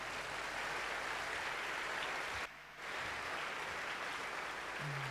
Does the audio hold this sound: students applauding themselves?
yes